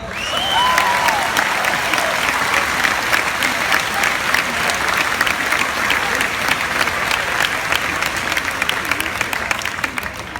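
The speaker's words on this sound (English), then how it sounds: "And they all deserve a big round of applause." A graduation audience bursts into loud, sustained applause, dense clapping from a large crowd holding steady for around ten seconds with a brief whistle at the start.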